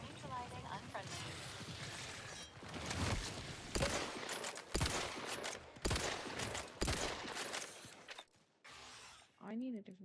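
Gunfire in the video game The Outer Worlds 2: dense bursts of shots and shattering impacts across the clip, dropping out briefly near the end, with a voice talking over the action.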